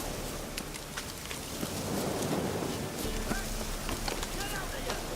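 Rain pours steadily in The Witcher 3: Wild Hunt, an even wash of falling water with faint patter throughout, while characters talk over it.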